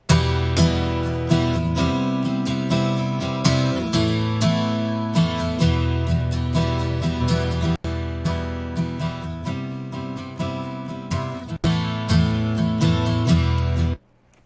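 A guitar track is mixed in FL Studio with a doubler and compression, giving bright, punchy strummed chords in a steady rhythm with sharp attacks, several brief pauses and an abrupt stop, all played alone.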